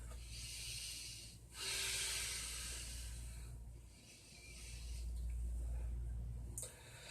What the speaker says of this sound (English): Inhale, roll up. Exhale, roll down.